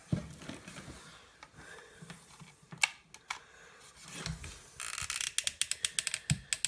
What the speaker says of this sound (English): Gotta get another glue stick stuck in here.